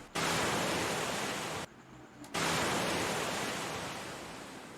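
Recorded sea waves play back as a loud, dense wash of surf that cuts out briefly mid-way, then resumes and slowly fades, with no voices.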